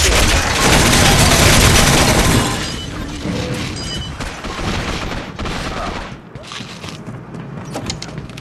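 Heavy gunfire in Gotham City Impostors on The Docks map: a dense, loud burst of rapid automatic shots for the first couple of seconds, then scattered quieter shots and impacts trailing off.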